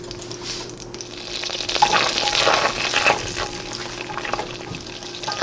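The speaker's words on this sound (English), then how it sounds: "now that our butter is almost fully melted" Butter melting in a pan, giving a continuous sizzle and crackle that swells in the middle and stays steady, close by and moderately loud, with no voices.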